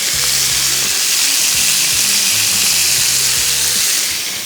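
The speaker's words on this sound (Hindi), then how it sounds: "तेज़ आंच पे फ्राई करेंगे," Chicken sizzles loudly in oil over high heat, a steady dense frying hiss with no pauses, close up with occasional faint clinks underneath.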